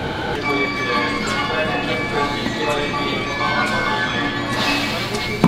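A train in Tokyo rumbles along with a continuous mechanical drone and rattling, steady and close, with occasional sharp clanks over the noise.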